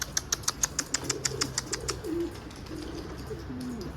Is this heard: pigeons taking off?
yes